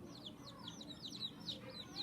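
Young chicks chirp and cluck in a quick series of bright, repeated peeps, fairly close and steady over a low background hum.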